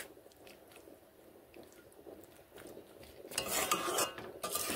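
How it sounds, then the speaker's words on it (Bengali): Flat beans are stirred in a pan with a utensil, giving soft scraping and clinking, faint at first and then louder, fuller stirring toward the end. "নেড়ে নিচ্ছি।"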